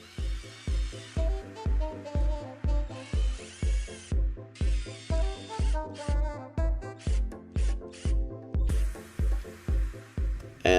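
A power drill drives screws into wood in a steady series of short whirring pulses, each rising and stopping in rhythm, close and loud.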